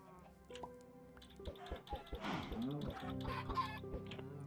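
Minecraft chickens cluck in a short run of blocky game-style calls, fairly close, while background game music or tones sustain underneath.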